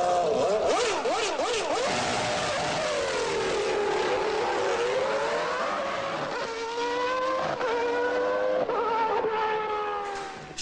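Williams 1993 Formula One race car engine screaming at high revs, its piercing tone sweeping up and down through rapid gear changes and passes, loud and continuous with no voices.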